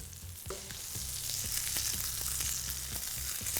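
A large piece of fish frying in a pan after being turned, a bright continuous sizzle with scattered small crackles and pops over a low hum.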